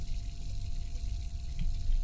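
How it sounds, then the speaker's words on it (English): Water flowing steadily in the horror game Layers of Fear, a continuous low gushing rush like a running tap that swells slightly toward the end, heard alone without talk. "let the water flow"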